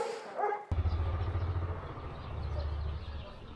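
Doberman dogs barking outdoors at a dog trading site in China, a quick run of sharp barks followed by steady low rumbling noise, with voices faintly in the background.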